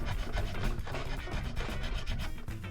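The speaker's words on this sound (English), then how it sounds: "I'm just scraping away and there's just a whole plastic root with inlay here." A tool scrapes plastic inlay out of a Squier Stratocaster guitar neck, a continuous close, gritty rasping with quick repeated strokes and no pauses.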